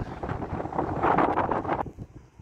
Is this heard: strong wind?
yes